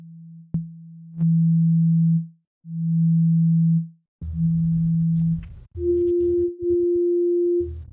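Flute-like FM synth patch made in Ableton Operator, pure sustained tones played as separate held notes with soft swelling attacks and a short click, later a higher note over a buzzier lower layer, loud and clean with no talk.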